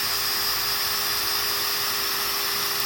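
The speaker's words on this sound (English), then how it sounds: "just let the drill bit do its thing." A small electric drill bores a hole in wood for a pencil box, giving a steady, high whine with a constant tone throughout, fairly close and alone.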